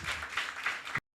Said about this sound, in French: je vais vous demander d'applaudir très fort pour lui